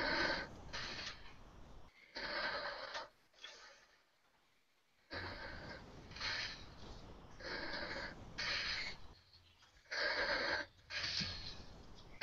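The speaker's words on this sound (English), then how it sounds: "Somebody is snoring. That's some serious breathing right there." Heavy snoring and loud breathing close to a microphone, long rasping breaths repeating in a slow rhythm with short quiet pauses between them, heard on its own.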